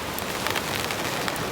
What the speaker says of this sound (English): I need snow, not rain.